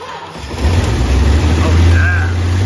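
A muscle-era Chrysler (Mopar) V8 in a partly stripped car starts and settles into a loud, close, rumbling idle with a steady low throb, while a voice briefly speaks over it.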